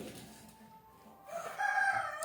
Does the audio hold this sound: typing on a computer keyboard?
no